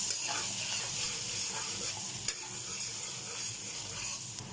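Garlic and ginger sizzle steadily in a hot pan while being stirred, with a constant frying hiss and occasional scraping clicks, close and alone.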